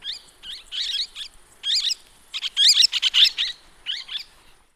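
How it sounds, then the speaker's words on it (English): A parakeet gives a series of sharp, chattering chirps in quick bursts, close and clear, with short pauses between the calls. "Parakeet."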